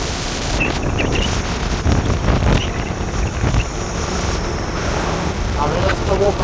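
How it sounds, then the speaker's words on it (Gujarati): Strong wind blows along a highway lined with green trees, buffeting the microphone in a loud continuous roar, with a person talking over it. "બહુ પવન પણ ચાલે"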